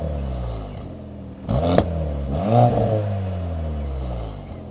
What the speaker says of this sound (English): let's go ahead and see how it sounds in the normal exhaust mode